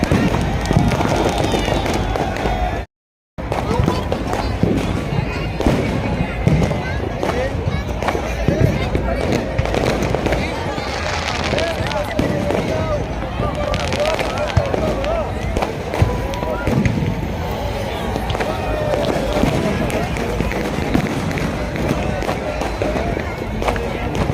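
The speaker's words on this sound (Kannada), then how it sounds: "ಅಷ್ಟು ಪಟಾಕಿ ಉಂಟು ಇಲ್ಲಿ" Dense, continuous crackling and popping of many firecrackers going off at once at a New Year celebration on Colva Beach, Goa, with voices mixed into the din throughout.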